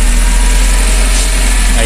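A repaired Toyota car engine idling steadily close by, a loud, even low hum without change in pace.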